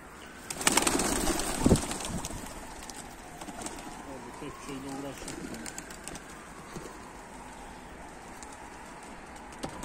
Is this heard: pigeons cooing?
yes